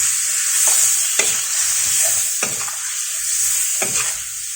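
Cajun shrimp sizzle loudly in a hot pan as a utensil stirs them, each scrape and toss punctuating the constant frying hiss several times over a few seconds.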